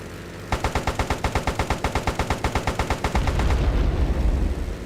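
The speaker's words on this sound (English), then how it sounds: "We will shoot this plane down." Rapid, evenly spaced machine-gun fire in the Airfix Dogfighter flight game as a plane is shot down, loud and close, about twenty shots over an engine drone that swells into a rumble at the end.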